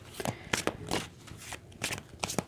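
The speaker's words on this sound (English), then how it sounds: "So I'm going to pull a card" Tarot cards are shuffled and drawn, giving close, soft riffling bursts and papery slaps in an uneven rhythm with short gaps.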